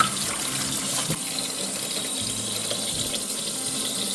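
Tap water runs steadily into a sink while dandelion greens are rinsed, a continuous close gush and splash with a few small knocks and no talking.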